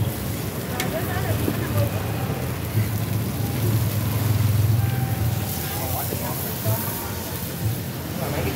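Heavy rain falls steadily in Saigon, a dense continuous hiss with low rumbling underneath, loud and close throughout with no pauses.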